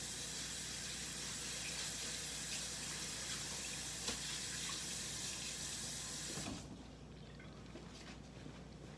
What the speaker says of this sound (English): All right, I'm gonna wash my hands off.